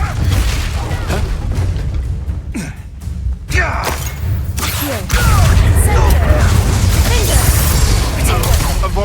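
Repeated fiery spell blasts with booming thuds and crackling bursts from Hogwarts Legacy combat, dense and loud, continuing steadily alongside other game effects with voices in the mix.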